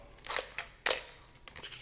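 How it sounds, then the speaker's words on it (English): The mechanical shutter of a Canon F1 35mm film camera fires: a few quick, crisp clicks and snaps close to the microphone, with the sharpest release near the middle, in a quiet room. "let's hear that shutter again for you guys. Nice mechanical shutter."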